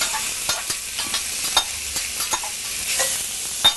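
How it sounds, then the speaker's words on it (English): Bacon sizzling in safflower oil in a hot skillet, a steady bright crackle with scattered pops and spits, close and continuous. "And there's my bacon going in."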